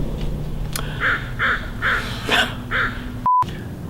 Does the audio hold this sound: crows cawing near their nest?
yes